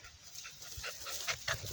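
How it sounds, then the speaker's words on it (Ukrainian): A dog roaming a forest during a mushroom-picking outing gives a few faint, brief whimpers and yips spread over a couple of seconds, heard from a short distance against quiet woodland background. "Це мій пес."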